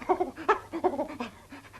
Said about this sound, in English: It's the woodentops Spotty dog.